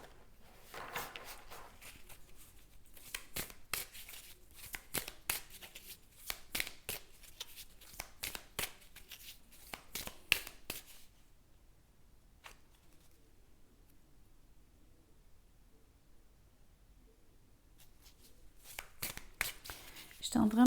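Tarot cards being shuffled and drawn: quick, soft riffling and papery flicks repeating in bursts for about ten seconds, then near silence, with a faint voice nearby.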